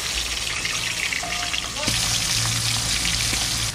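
Fish fries hard in an iron wok in a village kitchen, with a loud, dense, continuous sizzle and brief faint tones over it.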